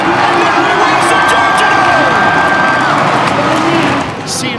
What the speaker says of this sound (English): Ken Roczen brought the crowd to their feet in Anaheim.